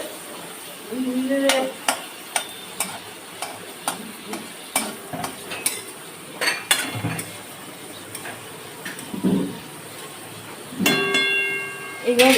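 Whole spices (cloves, cardamom, cinnamon, bay leaves) being stirred in a pan for basanti polao, giving regular scraping ticks and clinks against a soft sizzle, with a few louder strokes and a faint voice briefly.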